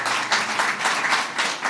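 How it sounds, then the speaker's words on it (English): Steady round of applause from a seated and standing crowd at the grand opening of a new affordable housing development, dense continuous clapping throughout with no voices. "just get a round of applause"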